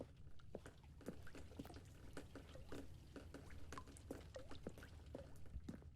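Water running in The Stanley Parable Ultra Deluxe: a faint, steady patter of trickling and dripping with small splashy plinks scattered throughout, quiet and alone.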